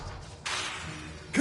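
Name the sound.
Diffindo slicing spell cast in the video game Hogwarts Legacy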